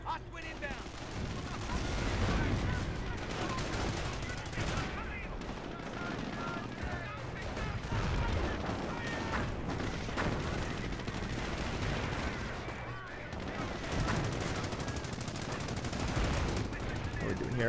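Company of Heroes battle during the Normandy campaign at Cherbourg, with Sherman tanks in action and dense, continuous machine gun fire and booms throughout, while a player talks over the combat.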